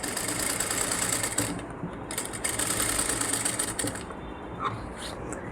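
Sewing machine running in bursts as it stitches close along a canvas patch on a blouse, a steady mechanical whir that pauses briefly and restarts, close and fairly loud with no talk.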